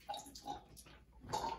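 Liquid detergent poured into a washing machine for washing microfiber towels, a short faint glugging pour with a few splashy bursts, close and quiet.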